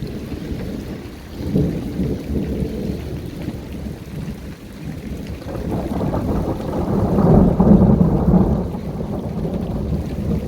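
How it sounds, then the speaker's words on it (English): Thunderstorm sitting stationary over a house, with continuous rolling thunder layered over steady rain; the rumble swells around the middle and builds to a loud, close peak near the end, with no talking. "If you think that 8 minutes of thunder, constant thunder are normal, go and do one."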